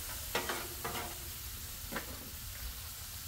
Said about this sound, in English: I'm going to go ahead, throw those beans in. Finish toasting these tomatoes a little bit.